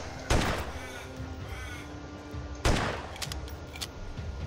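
Two loud, sharp gunshots roughly two seconds apart ring out over steady background din while shooting zombies in the game Hinterhalt 2.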